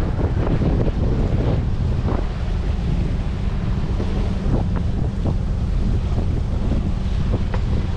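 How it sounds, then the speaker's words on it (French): Steady wind buffets a sailboat at sea near Gibraltar as it beats close-hauled into a headwind, a loud continuous rushing roar with low rumble and occasional slaps of water against the hull. "Pour l'instant on a encore le vent malheureusement de face."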